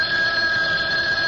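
A telephone bell ringing in a radio drama, a steady, loud, close ring held for the whole brief moment with no voices.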